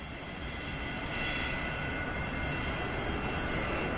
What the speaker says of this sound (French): Pas une minute sans décollage ou atterrissage.